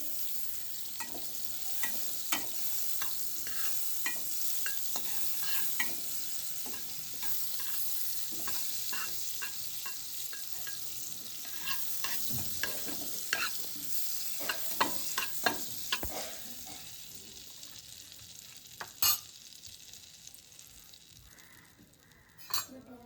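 Butter sizzles steadily in a stovetop pan while making pizza without an oven, a soft constant frying hiss punctuated by frequent light clinks and scrapes of a utensil against the pan.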